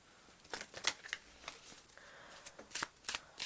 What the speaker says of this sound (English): I just really need to give a good shuffle to get in tune with the energies of this reading